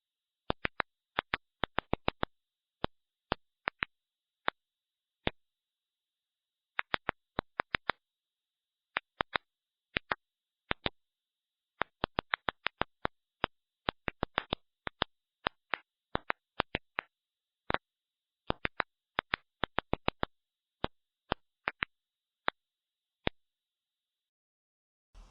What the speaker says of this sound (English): the stressed plants emitted more sounds than the unstressed plants